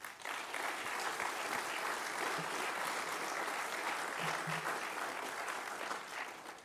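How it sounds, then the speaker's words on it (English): An audience at a machining apprenticeship graduation applauds the families, a continuous, even wash of clapping from a sizeable crowd heard at a moderate distance. "let's give the families a round of applause as well"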